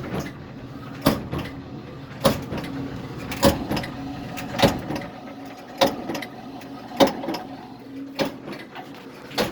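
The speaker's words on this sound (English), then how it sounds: "we got one hell of a thump going on in our Bosch nexxt 800 series dryer" A Bosch Nexxt 800 series dryer tumbles with a steady mechanical hum, broken by a loud, regular thump roughly once a second from a drum fault, close up and with no talking.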